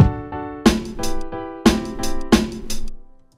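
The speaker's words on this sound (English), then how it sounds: "So at bar 32, I just want the snare, 1 kick, and the piano playing." A short hip hop break: punchy snare hits and a single kick drum over sustained piano chords, sparse and rhythmic, then fading out.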